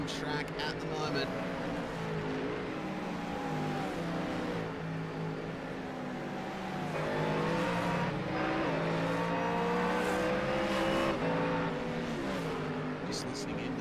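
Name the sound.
GT3 race cars at Bathurst 12 Hour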